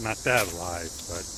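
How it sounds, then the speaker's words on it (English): Cicadas chirping in trees along a walk, a steady high buzzing drone running throughout beneath someone talking close by. "you can hear the cicadas chirping"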